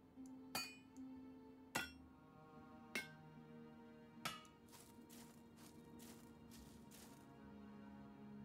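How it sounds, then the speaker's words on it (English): Parts are hammered in during Medieval Machines Builder: five sharp metallic clanks spaced about a second apart, each ringing briefly, followed by a run of lighter, quicker knocks. "Now we just need to hammer them in."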